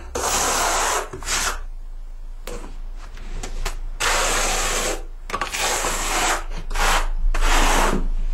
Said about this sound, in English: Now, I'm going to spread some thin set on here with a 1/4 by 3/8 notch trowel.